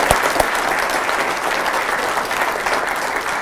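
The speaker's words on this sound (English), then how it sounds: "let's give these two Good Samaritans a big round of applause" An audience at an Albuquerque mayoral news conference applauds two Good Samaritans: dense, steady clapping that fills the whole stretch at an even level, close and full, with no voices breaking through.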